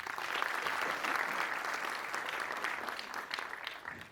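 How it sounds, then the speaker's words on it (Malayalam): An audience at a film trailer launch event applauds loudly and steadily, a dense wash of many hands clapping together that fades slightly toward the end. "ആ ധൈര്യത്തിന് എനിക്ക് വേണ്ടി നിങ്ങൾ വലിയൊരു കയ്യടി കൊടുക്കണം"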